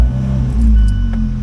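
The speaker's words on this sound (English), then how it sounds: "Had to crank it for a hot minute to bring some oil up to her, but she's running." 2018 Fiat 124 Spider with a 1.4L MultiAir engine idling after cranking, a brief steady low hum with a slight swell, close and alone.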